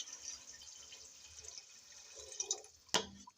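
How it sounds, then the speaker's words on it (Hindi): Water poured into masoor lentils in a cooking pot, with soft trickling and dripping and one sharp splash near the end, heard alone without speech. "अब मैं इसमें डाल दूँगी, ये तकरीबन 3 गिलास के करीब मेरे पास पानी है"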